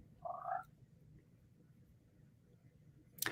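Cartoon frogs from a classic Disney Silly Symphony give one short, tonal croak near the start, then near quiet until a sharp burst of noise at the very end.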